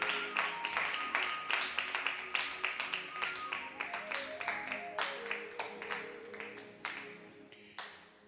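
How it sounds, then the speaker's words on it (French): A church congregation claps in praise of the King of kings, with rhythmic, steady handclaps repeating in a regular beat for several seconds over sustained music and faint voices, then thinning out near the end. "applaudissons encore une fois très fort le roi des rois"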